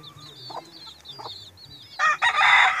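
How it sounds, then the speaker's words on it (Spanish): Young gamefowl chicks peep in rapid high chirps, close and fairly soft. Near the end, a louder burst of clucking breaks in. "aquí tenemos estos pollitos nietos de rompehuesos, hijos de un hijo de rompehuesos"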